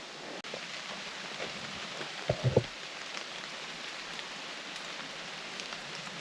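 Rain falling in remote wilderness, a steady soft patter spread evenly throughout, with a brief cluster of closer, louder knocks partway through.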